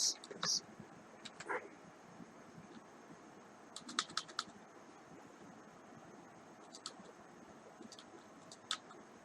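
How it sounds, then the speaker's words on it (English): Keys on a computer keyboard are typed in short, scattered bursts of crisp clicks with pauses between them, fairly faint against a quiet room hiss. "I have typed some garbage text"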